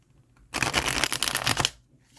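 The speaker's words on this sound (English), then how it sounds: "I'm going to shuffle them like so." A deck of tea leaf reading cards, thin cards in a hundred-card deck, is shuffled by hand in one quick, close burst of papery riffling and slapping that lasts about a second, then falls quiet.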